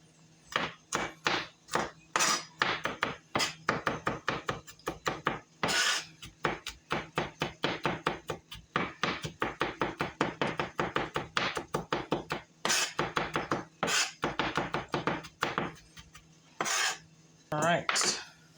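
A kitchen knife rapidly mincing crushed garlic on a cutting board, dozens of quick, close rhythmic chops in steady bursts with brief pauses, no talking.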